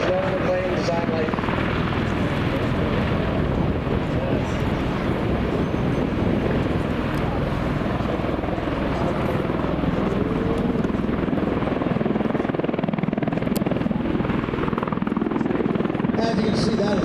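An MV-22 Osprey tiltrotor hovers nearby, its rotors pushing air in a loud, steady, broadband roar with a low throbbing beat that holds without a break.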